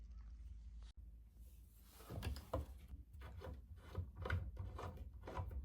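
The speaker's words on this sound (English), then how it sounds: "You just slide these off, unscrew them and slide them off." Metal pulls are unscrewed and slid off a wooden bathroom vanity, giving quiet scraping, rubbing and light wooden knocks in an uneven rhythm, close and faint, with no speech.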